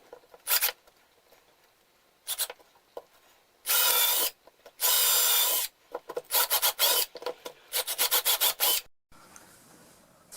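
Drill bit boring angled holes freehand into a wooden board, heard as bursts of harsh, raspy grinding of varying length separated by short pauses, close and loud, with a quieter hiss at the end.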